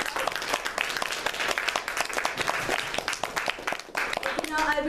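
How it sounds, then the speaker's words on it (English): Dense audience applause fills a meeting room during the awards and closing session of a club gathering, steady and close for nearly five seconds, with a brief voice or tone rising near the end. "Let us give her a big round of applause."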